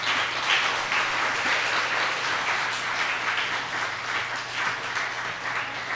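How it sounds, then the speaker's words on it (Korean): Applause from a church congregation welcoming a visiting pastor during a Sunday service, a steady wash of many hands clapping that holds at even strength for the whole stretch. "잠깐 박수로 환영해 주시기 바랍니다."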